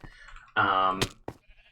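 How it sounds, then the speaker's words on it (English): A sheep in Minecraft Bedrock Edition lets out one close, clear bleat, followed by a couple of short, softer game sounds. "I've gotten half of the sheep in place"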